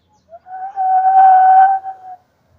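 A steady, deep whistle blown through the hollowed-out hole of a sweet held between the teeth, rising briefly then holding one sustained tone for over a second before fading, heard alone.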